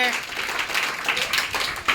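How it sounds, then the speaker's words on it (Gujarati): A group in a classroom quiz game applauds the winning team with a burst of scattered, ragged clapping mixed with voices talking. "ચલો જોરદાર તાળીઓના ગડગડાટથી વધાવી લઈએ આપણે"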